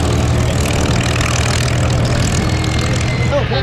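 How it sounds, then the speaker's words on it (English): A Yakovlev Yak-3 piston-engine fighter at the Duxford Battle of Britain Airshow gives off a loud, steady, low engine drone that holds throughout with no gaps. "two more piston engine fighters getting into the air."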